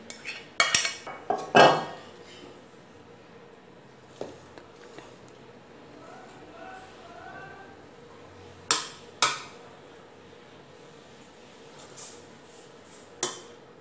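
Rice layered into a pot for chicken dum biryani: scattered clinks of a spoon or ladle against the pot, with a cluster of knocks early on and a few sharp taps later over quiet kitchen background.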